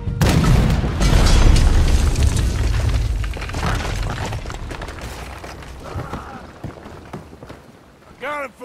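Cannon fire in Red Dead Redemption 2 during a ship mission: a loud deep boom opens the clip and rumbles on, fading into lower battle noise, with a sharp burst near the end.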